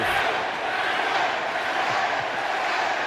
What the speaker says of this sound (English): Crowd is chanting safe.